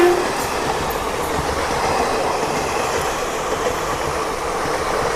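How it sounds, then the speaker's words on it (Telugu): The Pinakini Express passenger train, running from Vijayawada toward Chennai, rushes past at a crossing as a loud, steady rail roar that stays strong and continuous throughout. "చూసుకోవచ్చు మన పీనాకిని ఎక్స్ప్రెస్ ట్రైన్ అయితే వస్తుంది."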